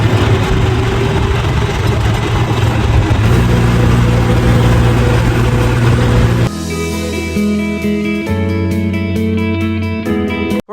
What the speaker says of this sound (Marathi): मग आता मी पण काढला ट्रॅक्टर आणि निघालो